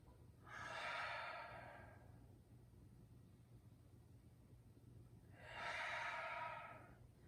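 Two slow, deep exhalations come during stretching exercises, each a soft breathy whoosh lasting over a second, separated by a quiet pause with faint background hum.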